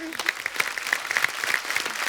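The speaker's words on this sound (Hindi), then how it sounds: "टीवी के बेहतरीन कलाकार गौरव घेरा के लिए एक बार जोरदार तालियां हो जाए।" A studio audience on a Hindi comedy talk show breaks into a steady wash of applause, with a voice speaking over the clapping throughout.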